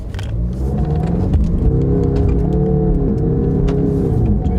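Land Rover Defender 110 with a D240 diesel engine climbs at full throttle off-road, a loud steady rumbling engine note rising slowly in pitch, close and continuous.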